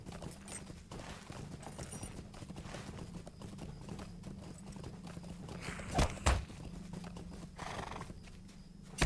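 A horse's hooves clip-clop steadily as it is ridden in the video game Lord of the Rings Online, a quick rhythmic beat with a couple of louder thumps partway through and a neigh.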